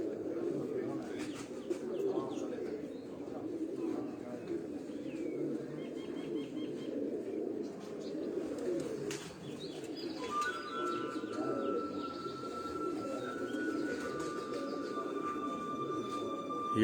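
Pigeons coo softly on a rooftop, with low murmuring calls and a few chirps heard faintly through steady background noise.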